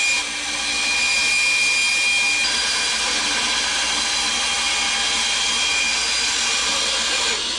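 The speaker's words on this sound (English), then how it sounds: "we'll do that on the bandsaw. So the first cut's going to be coming across for the windshield and then across the hood" A bandsaw cuts the windshield and hood profile of a wooden toy dump truck, a loud, steady whining roar that runs unbroken through the whole stretch, close by and with no talk.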